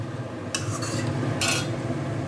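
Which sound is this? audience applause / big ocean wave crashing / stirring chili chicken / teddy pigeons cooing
stirring chili chicken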